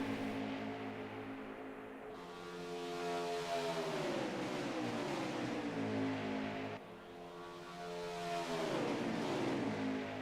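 Race cars lapping Talladega in a racing video game pass by with rising and falling engine whines, two distinct swooping pass-bys, kept fairly quiet and continuous.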